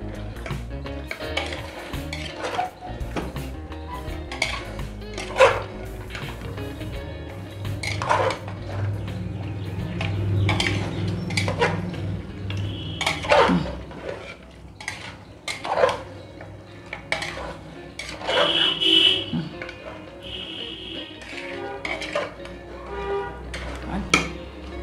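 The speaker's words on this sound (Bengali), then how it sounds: "আমি এটা ভালো করে কষাবো" Mutton for a spicy red Bengali kosha is stirred in a pot with brown sugar, the spoon scraping and clinking against metal in irregular strokes over a low sizzle while someone talks throughout.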